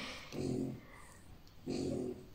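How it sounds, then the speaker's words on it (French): Small dogs snore softly nearby in a quiet room, two slow, faint breaths with a low rumbling rasp, spaced over a couple of seconds. "avec mes petits chiens qui ronflent à côté"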